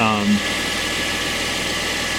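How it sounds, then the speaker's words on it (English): A cheap Mercedes car with a transmission problem idles with a low, steady engine hum, and a brief voice is heard right at the start. "But right now it's just idling."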